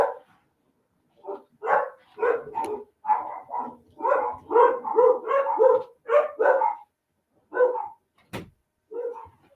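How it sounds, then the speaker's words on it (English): Several dogs bark at someone outside, a close, loud run of repeated barks and yips in uneven bursts filling most of the stretch, with brief pauses between volleys. "forgive my dogs, you all. They see someone outside."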